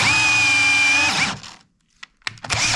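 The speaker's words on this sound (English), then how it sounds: "now we're gonna put our hole in, going from this one to this one." A power drill bores a hole through workbench wood, a loud steady whine for over a second before winding down, followed by silence and a few brief clunks as it restarts.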